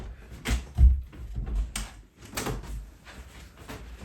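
A house door moving open or shut, with a few dull thumps and rattles at close range, moderately loud with quiet gaps between them.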